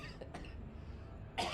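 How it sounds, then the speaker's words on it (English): A short, quiet cough comes in a couple of brief bursts, followed by a sharper throat-clearing sound at the end. "this cough is never going to go away"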